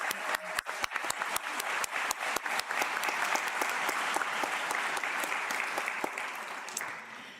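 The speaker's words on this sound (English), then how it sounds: "Let's give all of them a big round of applause." A large audience at a Penn State Brandywine commencement ceremony bursts into sustained applause, dense clapping with a few sharp, distinct claps up front, steady throughout and tapering slightly at the end.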